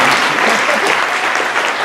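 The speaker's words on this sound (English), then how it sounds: "Can we clap for our tech team" Audience applause for the tech team at a live launch presentation, dense and steady throughout, a loud wash of many hands clapping with no gaps.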